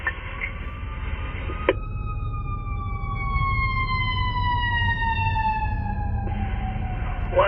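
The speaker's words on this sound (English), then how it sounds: "Those are emergency vehicles." Emergency vehicle sirens wail in Chicago street traffic on Division Street, long steady descending tones sustained and fairly loud over the rumble of idling vehicles, with a sharp horn-like blast near the start.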